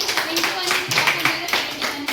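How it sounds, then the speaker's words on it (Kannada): A group of people at an Independence Day school program applauding a game winner, a dense burst of loud, continuous clapping mixed with voices and cheering. "ಬನ್ನಿ ಜೋರ ಚಪ್ಪಾಳೆ"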